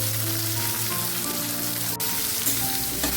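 Sliced onions fry in hot oil with bay leaf, whole cumin seeds and garlic cloves, giving a dense, continuous close-up sizzle and crackle.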